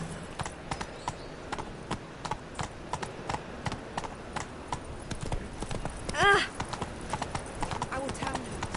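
Roach the horse trots steadily in The Witcher 3, hooves clip-clopping in a quick even rhythm, with one brief whinny partway through and voices heard over it.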